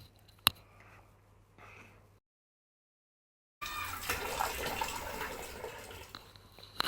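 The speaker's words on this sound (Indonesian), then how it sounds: "semuanya kita cuci satu persatu di air yang mengalir" Pineapple pieces washed one by one under a running tap, with a brief splash and faint trickle at first, a short pause, then a steady, fairly loud stream of running water to the end.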